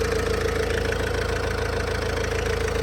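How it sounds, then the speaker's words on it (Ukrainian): A Fiat Freemont engine idles steadily and evenly, a continuous low hum with no changes in pitch. "Мотор працює чітко, рівненько"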